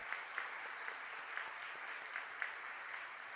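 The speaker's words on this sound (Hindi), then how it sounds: "तालियां बजाकर हम अपने धन्यवाद को" A church congregation claps in thanks, a steady wash of many hands with a few sharper claps standing out, moderately distant and continuous throughout.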